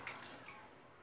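Water poured into a pan while cooking creamy tuna pasta, a steady close splashing trickle lasting about a second, fairly quiet, with no talking.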